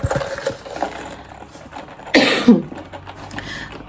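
A single harsh cough rings out close by midway through, amid quiet background noise.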